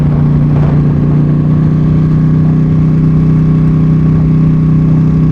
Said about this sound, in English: this is obviously not stock, and oh boy, it sings a different tune, but fantastic sounding machine